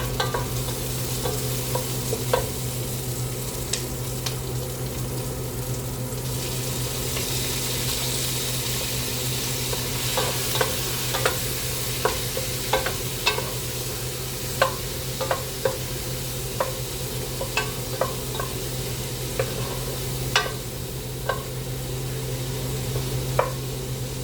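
Shrimp and broccoli cook in a pan with a steady frying sizzle and low hum, while a utensil stirs and taps against the pan in repeated light clicks throughout, no talking.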